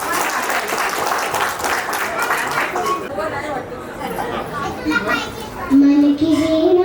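Children clap and chatter together during a retirement ceremony, a busy burst of applause that fades into excited kids' voices, followed by a rising sung tone near the end.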